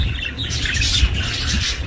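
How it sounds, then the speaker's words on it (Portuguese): Budgerigars in a breeding setup chattering and chirping together in a dense, busy warble, with scattered higher tweets over a low rumbling background noise and no talking. "Ouviram os periquitos cantando?"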